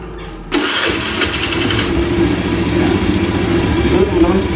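Honda Scoopy scooter with a rough-running engine: after a short quiet moment it fires up and settles into a steady, rattly mid-pitched idle that continues to the end.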